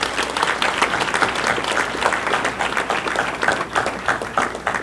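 Steady, dense applause from an audience at a Haitian eloquence club's mock-trial event in a hotel, sustained and fairly loud throughout with no break.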